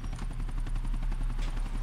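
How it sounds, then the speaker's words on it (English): Helicopter in Grand Theft Auto IV with a rapid, steady rotor chop, a rhythmic thudding pulse that carries loud and unbroken through the moment. "I thought the helicopter saw me for a second."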